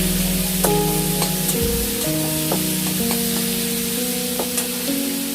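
A faint, steady sizzle of egg mixture with salt and turmeric frying in a pan, with light scraping and stirring over soft background music.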